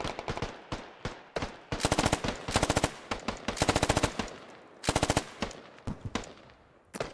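Rapid bursts of automatic gunfire in a squad-based shooter video game, loud close volleys repeating in uneven clusters with short pauses between them.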